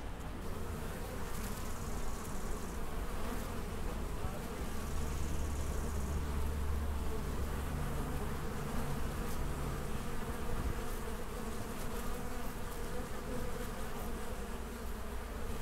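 Honeybees swarm around a beekeeper, a continuous dense hum of many wings close and steady, with no voices.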